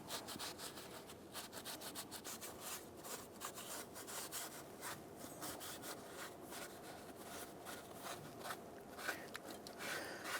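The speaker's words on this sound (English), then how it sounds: "Go ahead and wipe this down." A rag wipes down the exhaust manifold mating surface of a 1997-2006 Jeep Wrangler engine head, giving quiet, continuous rubbing and scraping strokes with no voices.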